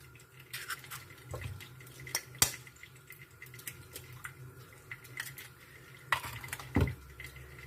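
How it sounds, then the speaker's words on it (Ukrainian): Two eggs are cracked into a small bowl with a pinch of salt and mixed, giving scattered clinks and taps of a utensil against the bowl. The sounds are quiet and irregular, with no talking. "Додаємо сюди два яйця, вбиваємо."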